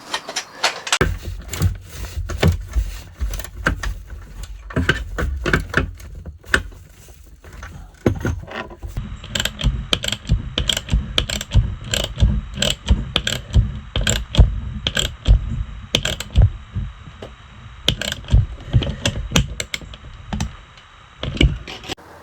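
A ratchet wrench cranks steadily on small 6mm stainless steel bolts while a telescopic bike carrier is fitted to a motorhome. Close, rapid mechanical clicking runs almost continuously, with brief pauses between strokes.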